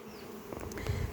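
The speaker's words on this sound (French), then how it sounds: "il y a des abeilles qui cherchent à entrer de partout" Honeybees buzz around a hive they are trying to rob, a brief close drone with a few passing individual buzzes and no voices.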